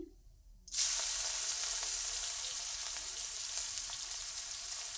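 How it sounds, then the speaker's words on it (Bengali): Shrimp coated in turmeric and salt drop into a hot pan and burst into a loud, sudden sizzle that keeps hissing steadily up close, with faint stirring scrapes and no speech. "এবারে মাছগুলোকে একটু নাড়িয়ে ভেজে নেব।"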